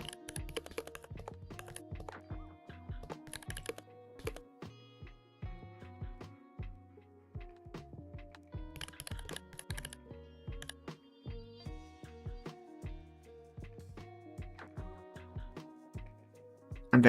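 Irregular bursts of keystrokes on a computer keyboard during game coding in Godot, close and fairly quiet clicks with short pauses between runs.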